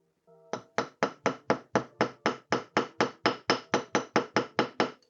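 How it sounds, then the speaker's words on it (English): A small hammer taps a wire pendant frame in a quick, even series of about eighteen sharp metallic strikes, close and clear with no talk. "Give this little hammer down to straighten things out."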